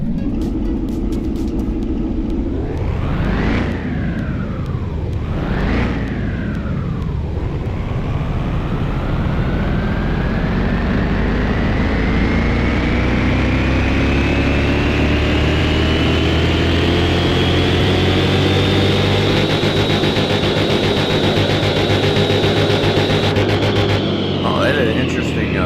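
A car engine on a dyno in the Car Mechanic Simulator 2021 game revs hard through two quick gear pulls, then climbs in one long, rising wail before cutting off, loud and sustained throughout.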